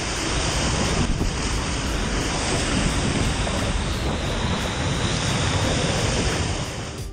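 Waves surging in an artificial wave pool, a steady, loud roar of churning water and surf that continues without a break from start to finish.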